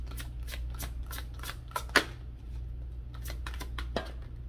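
A deck of cards is shuffled several times in quick succession, producing crisp riffling bursts with a few sharper snaps, close up over a low steady hum with no talking.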